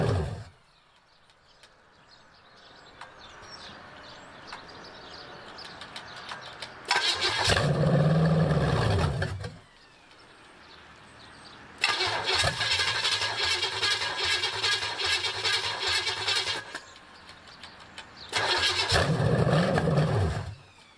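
An abandoned Pontiac 400 V8 short on fuel cranks over in three loud bursts of a few seconds each, its starter churning without the engine catching, separated by quiet pauses with faint background noise.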